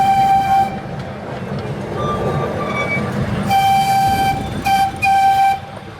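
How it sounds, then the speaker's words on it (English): A miniature train built as a scale replica of the 1863 C.P. Huntington locomotive runs through a park, its steady rolling rumble continuing throughout, with several short horn or whistle toots sounding over it. "The train is a scale replica of the famous 1863 C.P. Huntington engine that was used in the construction of the first transcontinental"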